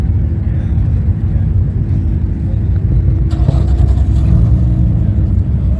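A Fox Body Ford Mustang engine at a Fort Wayne Coliseum gathering, a loud, steady low rumble with a brief sharper burst partway through, close by and without talk.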